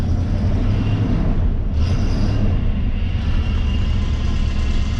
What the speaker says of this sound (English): Our steering pump's whining a lot.